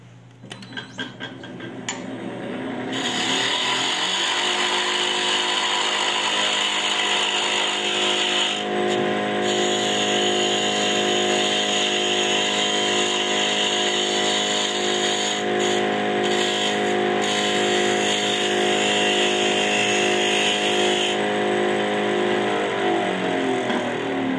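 Woodturning lathe with a cutting tool making a smooth cut, a steady loud whir with a continuous hissing shave that holds evenly for about twenty seconds after spinning up.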